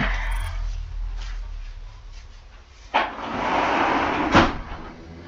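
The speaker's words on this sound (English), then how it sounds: "let me shut the door real quickly" A room door pushed closed nearby, a soft rushing swing followed by a dull thud and a second knock a moment later, heard over a steady low background hum.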